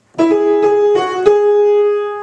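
A right-hand piano line from a song rings out alone: four clear struck notes over about two seconds, each left to sustain and fade, played close up.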